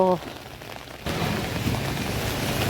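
Rain falls outdoors in a steady loud wash of patter that starts abruptly after a brief quieter moment, with a short voice-like tone at the very start.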